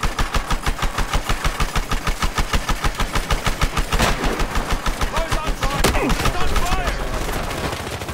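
Rapid, loud automatic gunfire rattles in a steady rhythm through a Battlefield Hardline match, mixed with a running vehicle engine, then giving way to engine roar and a few scattered shots.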